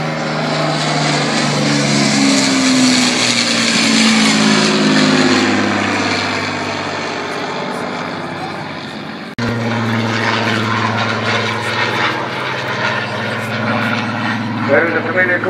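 Supermarine Spitfire and Hawker Hurricane piston-engine fighters fly past at a Southport airshow, a loud sustained propeller-engine roar rising and falling in pitch as the aircraft pass, with a commentator talking over the PA throughout.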